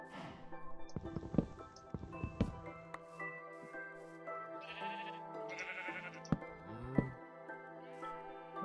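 Sheep bleating in Minecraft, a few short bleats amid game sounds and background music, moderately close and fairly quiet.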